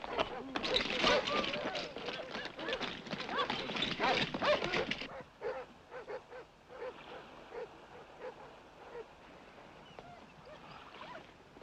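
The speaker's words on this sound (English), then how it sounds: "The other dogs are barking down there" Several dogs bark in a 1969 World War I film scene, a busy run of barks and yips for about five seconds, then fainter scattered barking further off.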